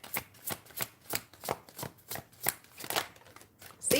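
Tarot cards are shuffled close up in a quick rhythmic series of crisp riffling slaps, about a dozen strokes, with a brief pause before a final flick as a card is pulled.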